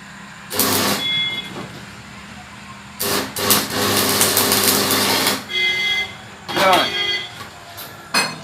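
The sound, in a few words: arc welding a pipe with welding rod at 50 amps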